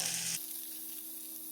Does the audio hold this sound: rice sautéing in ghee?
yes